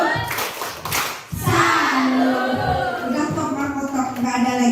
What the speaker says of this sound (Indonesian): sekali lagi tepuk salut untuk kelompok 5